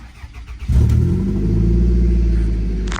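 A beat-up old winter car with its exhaust cut off halfway through fires up after a short pause and settles into a loud, deep, rumbling run that fills the rest of the clip, with no talking.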